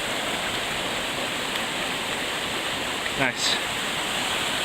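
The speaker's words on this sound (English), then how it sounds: "Ooh, a little cascade." A small mountain cascade on a trail near Hamlin Peak in Maine rushes in a steady, full wash of falling water close by, with a voice briefly speaking near the end.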